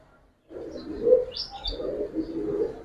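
Low, throaty cooing from small Giribaz colouring pigeons, two soft rounded bursts close by with a short break between them, rising out of near silence and holding steady with no speech.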